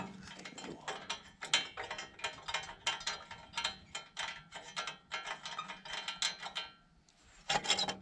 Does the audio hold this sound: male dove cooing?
no